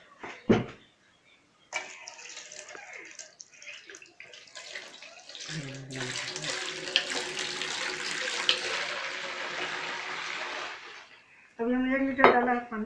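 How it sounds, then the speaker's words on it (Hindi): Water is poured from a container into a milk mixture for several steady seconds, a continuous splashing gush, with clinks of utensils and vessels before and after. "अब इसमें हम डालेंगे पानी।"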